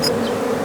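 Honey bees humming steadily at a beehive box in Botswana, a dense continuous drone heard close up.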